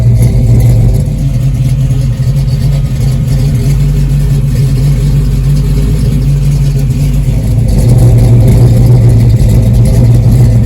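A stroked Pontiac 455 V8 bored out to 494 cubic inches rumbles loudly and steadily close up, its deep idle swelling slightly in a couple of mild revs.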